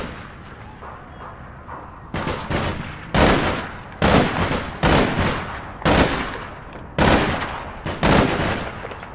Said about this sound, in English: and they're shooting me